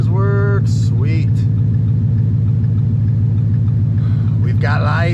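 A Ford F100 truck engine rumbles at a steady idle, loud and close, with a low, even throb throughout and a few brief higher tones over it near the start and end.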